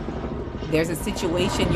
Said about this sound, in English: excuse the helicopter